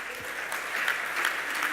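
A symposium audience applauds in a hall with steady, dense clapping from many hands. The clapping stays fairly even for the whole short stretch.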